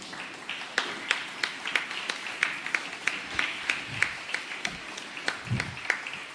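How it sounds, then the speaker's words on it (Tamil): An association meeting audience claps in a light, scattered round of applause, individual sharp claps audible at a moderate distance for several seconds. "நாம் அனைவரும் எழுந்து நின்று கரகோஷம் மூலம் வாழ்த்துக்களை தெரிவித்துக் கொள்வோமாக"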